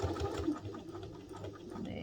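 A sewing machine with a big needle, large stitch and high tension runs slowly through a bag's lining and flap, giving a steady close mechanical whir with rhythmic needle pulses throughout.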